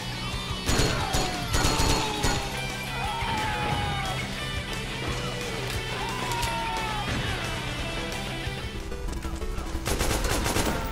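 Dense, continuous gunfire and blasts from grenade explosions fill a Metal Gear Online match, with rapid overlapping shots and heavier booms layered over game music throughout.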